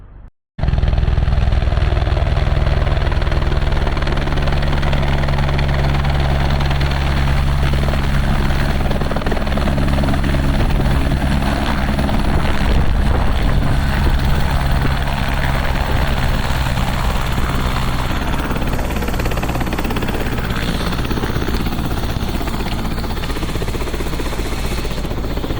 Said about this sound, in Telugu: మొత్తానికి నన్ను రెస్క్యూ చేయడానికి హెలికాప్టర్ అయితే వచ్చింది.